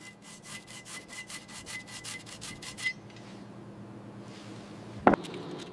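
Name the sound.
brushing loose rust off a metal wrench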